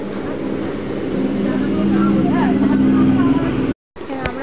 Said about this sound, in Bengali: তো দেখছি না, একটা ট্রেন ঢুকছে।